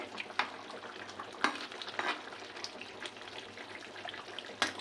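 Fish curry gravy with mourala fish, eggplant and potato bubbles in a pan, giving a steady soft simmering hiss with scattered louder pops and clinks.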